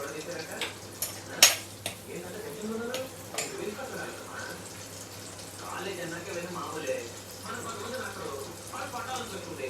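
Egg frying in a clay pot over high heat, a steady sizzle with sharp clinks and scrapes of a utensil near the start and intermittent stirring throughout.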